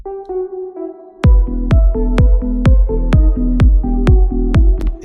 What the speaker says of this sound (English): So with kick and bass, it sounds like this.